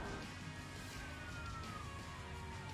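A police car siren wails in the BeamNG.drive driving game, a faint wavering tone gliding slowly downward over a steady bed of road and engine noise, with no talk.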